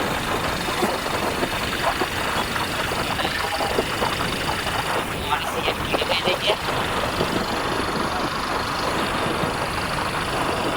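Motorbike engine running steadily while riding on a road toward a nearby village, a continuous broadband rumble with wind buffeting throughout, voices speaking intermittently over it.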